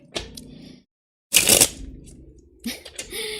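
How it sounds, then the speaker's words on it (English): Tarot cards are riffled and shuffled in a few quick, crisp bursts with short pauses between, close up, with some handling noise. "Having a hard time shuffling today."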